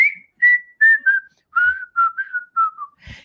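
Clear melodic whistling, a series of short sliding phrases with brief gaps, from the whistle part of an Otis Redding recording.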